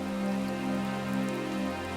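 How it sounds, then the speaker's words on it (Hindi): Steady rain falls on a surface in a street-food setting, a continuous even hiss with a low hum beneath it, no voices. "बारिश फिर शुरू हो जाती है।"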